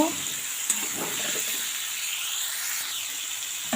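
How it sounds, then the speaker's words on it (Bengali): Half-boiled beans, carrots and peas sizzle loudly in a hot pan while being stirred, a continuous close frying hiss with brief scrapes and no talking. "আবার কয়েক সেকেন্ড একটুখানি নাড়িয়ে নেব।"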